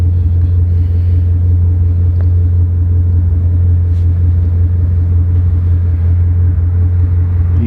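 A Ford Mustang GT350 drives along a street, its engine giving a steady, loud low rumble close to the microphone.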